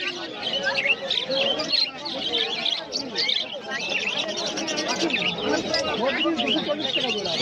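Caged birds at Rajarhat pet market, cockatiels and sparrows among them, chirp and call continuously in a dense, busy chorus, with market chatter mixed in throughout.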